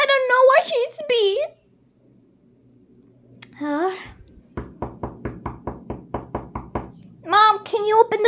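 Ten sharp knocks on a door rap out in a steady, evenly spaced series, close and fairly loud, with someone talking before and after.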